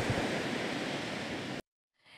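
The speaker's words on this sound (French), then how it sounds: "le littoral érodé continue de subir l'assaut des vagues de l'océan Atlantique" Atlantic Ocean waves batter an eroded coastline in a dense, steady wash of surf that cuts off abruptly, then returns faintly after a short silence.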